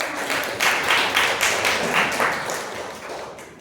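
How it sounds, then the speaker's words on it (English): An audience at a Toastmasters chapter meeting claps in a round of applause, a dense, steady patter of hands with slight rhythmic swells, moderately loud in a room and fading slightly toward the end. "Can we have a big round of applause for"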